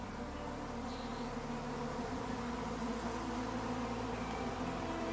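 A swarm of wild honey bees drones steadily around their hives, a dense and continuous buzzing heard at low volume, with no other sounds breaking through.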